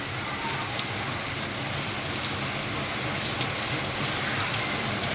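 Constant heavy rain with strong wind, hissing and drumming on surfaces over waterlogged roads, with a faint low rumble in the background and no speech.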